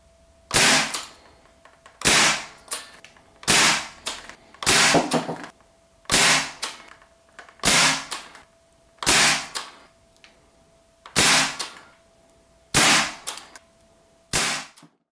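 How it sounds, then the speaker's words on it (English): Ten evenly spaced shots from a Caliburn foam dart blaster fitted with a scar barrel, firing Worker darts, each a sharp close pop followed by a brief rattling tail, with a faint steady hum underneath and no talking. "I'll be firing them out of my Caliburn with a scar barrel attached"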